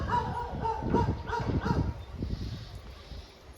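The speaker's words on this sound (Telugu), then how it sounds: "కుక్కల సౌండ్ కూడా ఎక్కువ అయింది." Dogs bark in quick repeated bursts at a distance for a couple of seconds, then fade into quieter outdoor ambience.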